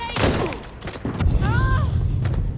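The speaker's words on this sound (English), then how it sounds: "Engaging target. Frag grenade!" Frag grenade blast in the Watch Dogs: Legion video game, a burst of explosive booms and thuds with a rumbling tail over about two seconds, while a voice talks across it.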